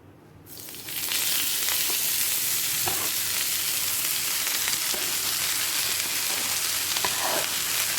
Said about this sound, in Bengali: আমি খুব সামান্য ঘি দিয়েই বসালাম